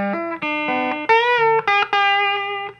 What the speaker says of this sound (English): the guitar solo opens with this great riff